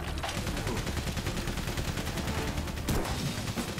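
Rapid, relentless gunfire in the World War I video game Valiant Hearts: The Great War, a dense continuous rattle of shots with a sharper crack near the end.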